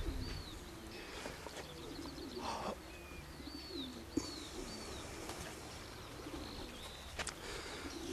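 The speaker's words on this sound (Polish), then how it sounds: "Można się napatrzeć, jak sobie gołąbki latają." Racing pigeons coo at a loft, with soft repeated coos and scattered bird chirps under a steady outdoor hiss and a single sharp knock partway through.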